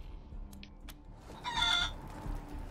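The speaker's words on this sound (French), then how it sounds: "J'ai entendu, c'est ta poule." A cybernetic chicken in the Wasteland 3 video game gives a short clucking call, moderately loud over a low background hum, preceded by a few faint clicks.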